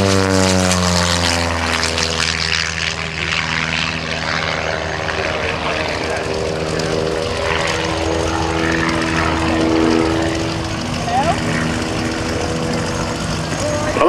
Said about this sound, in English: He's on his takeoff roll now.